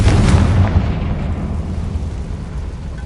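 A Confringo spell explosion in the video game Hogwarts Legacy: one loud blast at the start whose rumbling roar fades out over a few seconds.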